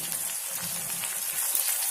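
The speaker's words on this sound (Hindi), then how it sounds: "अब हमको इसको तब तक भूनना है तब तक ये ब्राउन ना हो जाए।" Chopped onion fries in a pan for masala bhindi, giving off a steady, close hiss of sizzling oil that holds even throughout with no voices.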